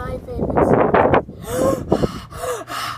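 A person imitates Darth Vader's heavy breathing, with several rasping, gasping breaths in and out, close to the microphone, mixed with short vocal sounds.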